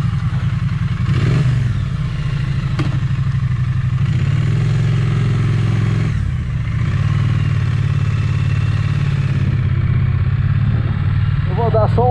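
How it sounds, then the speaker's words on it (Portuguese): A motorcycle engine idles steadily with a low throbbing rumble and a few revs, close and loud throughout. "vamos ligar a moto"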